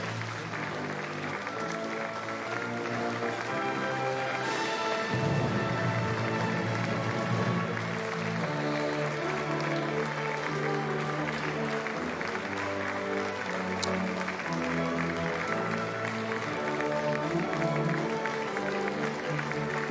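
Sustained applause from a crowd at a presidential inauguration ceremony, dense clapping holding steady throughout with music and a brief swell of cheering under it.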